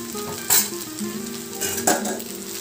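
Crumbled idli stirred into a sizzling tempering for idli upma, steady frying hiss with a couple of sharper scraping strokes of the spoon against the pan, close and alone.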